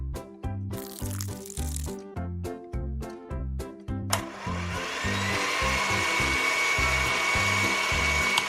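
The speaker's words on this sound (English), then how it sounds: "Turn it into liquid form by grinding." A kitchen grinder whirs as fruit is blended into a liquid for making tiny lollipops, running in short repeated pulses before settling into a steady continuous drone, loud and close.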